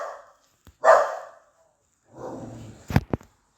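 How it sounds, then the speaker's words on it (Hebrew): A dog barks nearby in a few short, sharp bursts separated by silence, loud and close with no talking. "זה הכלבה שלי, אל תיבהלו."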